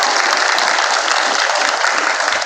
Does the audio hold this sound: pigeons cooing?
no